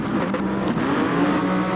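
BMW race cars in a racing video game revving hard and accelerating together off the start line, a loud, steady engine roar with no voices over it.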